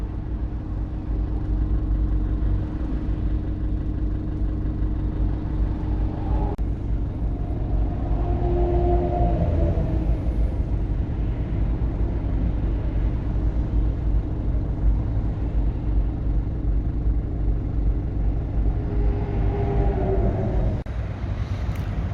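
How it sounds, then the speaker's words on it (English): Traffic jam heard from inside an RV on a road in northern Poland or Germany: a steady, loud low engine and road rumble with wind-like noise throughout, and faint passing vehicle swells. "Stuck in a traffic jam."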